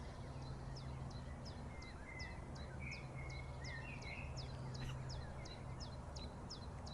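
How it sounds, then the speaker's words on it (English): Small birds chirp in a quick, evenly spaced series of short high calls, faint and somewhat distant, over a low steady background hum. "We can hear the birds."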